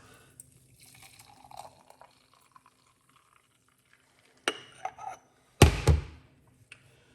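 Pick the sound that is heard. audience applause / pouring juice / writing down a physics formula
pouring juice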